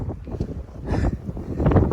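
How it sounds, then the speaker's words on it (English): Strong mountain-top wind gusts on the Appalachian Trail buffet the microphone in heavy, rumbling bursts, the roar swelling and easing unevenly over a couple of seconds. "The wind is, she's almost knocking me over. It's so windy up here."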